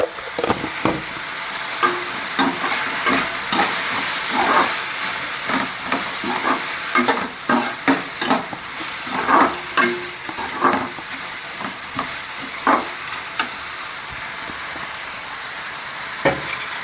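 Onions and tomatoes sauté in a hot pan with turmeric and salt for an egg kurma, a steady sizzle broken by repeated scraping stirs of a spoon against the pan, close and loud, with no talking.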